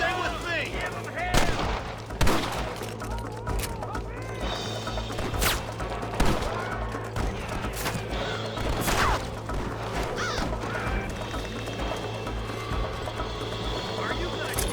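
Gunfire in a Red Dead Redemption shootout with rustlers: scattered sharp shots and cracks over a steady background din, with a few louder bursts while voices shout during the fight.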